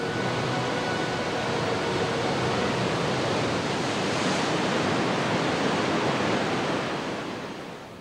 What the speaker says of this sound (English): Energy from falling water.